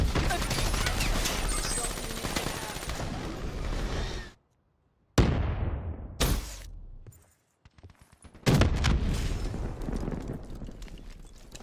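Hellstorm missile strike in a first-person shooter video game, heard as loud dense bursts of explosions and blasts, broken by abrupt silent gaps, then a further heavy barrage of booming impacts.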